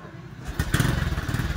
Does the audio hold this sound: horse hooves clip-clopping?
no